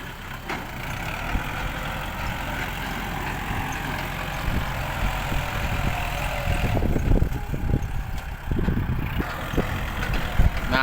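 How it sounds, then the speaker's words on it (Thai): A tractor clearing dumped soil at a dirt site, its engine idling and rumbling steadily at close range, with heavier clanks and surges of working noise in the second half. "เหลือแต่ รถไถเคลียร์พื้นที่อยู่"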